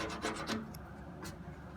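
Old pinstripes are rubbed off a 1996 Ford F150 body panel with elbow grease and isopropyl alcohol, a close, steady scrubbing rasp with a few sharper strokes.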